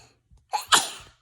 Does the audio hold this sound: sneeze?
yes